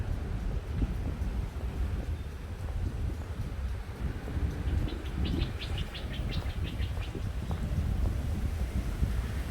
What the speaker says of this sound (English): really a lot of pigeons, I noticed